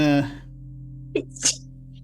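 A player at a tabletop role-playing session of Invisible Sun gives a short, sharp sneeze and then a second one, after a brief word from someone at the start.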